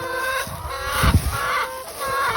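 Several chickens cluck close by in short, uneven bursts, with some louder squawks near the middle and faint background noise.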